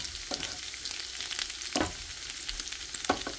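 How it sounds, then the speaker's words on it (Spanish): Shrimp fry with garlic in a pan, giving a steady low sizzle with a few sharper crackles and spatters, moderately quiet and with no talking. "Ya voy a agregar los camarones, los vamos a dejar cocer 2 minutos a cada lado."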